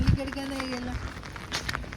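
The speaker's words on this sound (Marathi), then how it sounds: "पाऊस कसा येते तर चांगलाच वाढलेला आहे." Rain falls steadily outdoors on a hillside, a broad hiss running throughout under some faint voices and movement.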